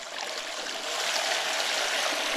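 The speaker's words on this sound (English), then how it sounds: "Helps if you actually turn the pump on." Floating water pump running in a stream and pushing water into a gold sluice box, a steady close rush of flowing, splashing water with no talk.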